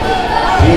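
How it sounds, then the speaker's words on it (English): The Ephrata home crowd at a high school basketball game erupts in a loud, close burst of cheering and yelling after a foul-and-one play. "As the Ephrata crowd erupts in celebration after the foul and one."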